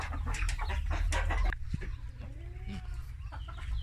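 Laying hens on a farm cluck in a busy, fairly loud burst that drops to quieter, scattered clucks and calls partway through, over a steady low background hum.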